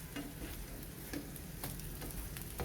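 Sardine patties frying in a small amount of oil in a pan, with a steady close sizzle broken by occasional crackles and pops, no voices over it.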